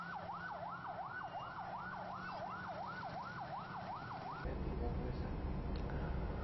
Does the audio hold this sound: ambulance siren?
yes